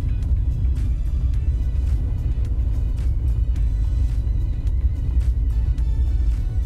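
A car pulls away uphill on slippery hard-packed snow in the Lofoten, its engine giving a steady, low, rumbling drone heard from inside the cabin with faint scattered clicks.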